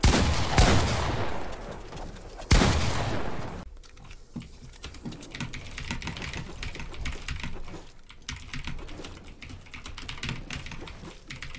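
Keys of a computer keyboard clatter in rapid bursts during a Fortnite session, a busy dense rattle mixed with sharp bangs like gunfire and machine noise.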